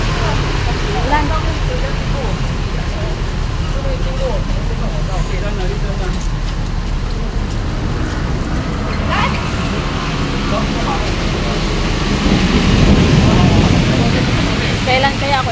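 Heavy rain pours as a dense, steady broadband hiss throughout, loud and close, with occasional faint background noises mixed in.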